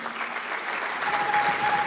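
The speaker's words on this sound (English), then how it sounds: "give a big round of applause to them." A conference audience at an entrepreneurship conclave claps for the event hosts on stage, sustained, fairly loud applause that swells slightly toward the end.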